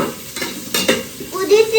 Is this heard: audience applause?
no